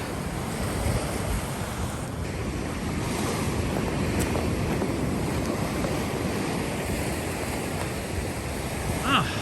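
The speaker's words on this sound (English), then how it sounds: "Beautiful breeze coming off of there." Steady wind buffeting the microphone over continuous breaking surf at Fort Pickens beach on the Florida coast, a loud unbroken roar of waves and breeze with no talk.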